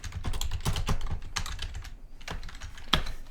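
Close, rapid keystrokes on a computer keyboard, an irregular run of crisp clicks with a brief pause and a harder final tap, with no one speaking.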